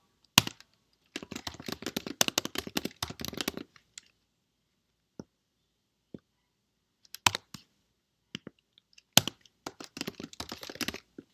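Fingers type manually on a computer keyboard in two quick bursts of rapid clicking, separated by a near-silent pause with a few isolated keystrokes, close and clear with no talk.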